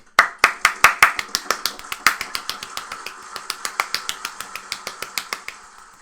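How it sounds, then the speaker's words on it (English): Rhythmic hand claps keep a steady beat along with a sound effect, the claps sharp and close, a little under two per second for the whole stretch. "Clap with it, Tim."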